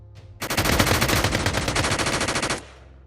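A squad of guards fires guns at shooting range targets in training, a dense rapid barrage of overlapping shots lasting about two seconds, loud and close, then cutting off abruptly.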